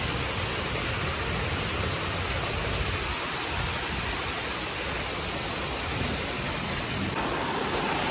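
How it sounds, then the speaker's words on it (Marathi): The season's first rain falls steadily on garden plants and trees, a dense, even hiss that continues without a break. "ह्या पावसाने खूप छान प्रकारे असं आमच्या झाडांना भिजवलेलं आहे"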